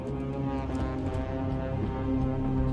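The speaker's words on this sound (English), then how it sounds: "Couldn't focus because of the TV noise downstairs." Muffled TV noise drifting up from downstairs in the horror game Fears to Fathom: Home Alone, heard as a steady low humming drone with a buzzy, tonal quality, constant in level and without voices.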